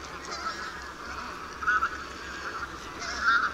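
Wild geese honk from a distance in the Barycz Valley, Poland, over a faint background hiss, their calls rising in a few louder bursts.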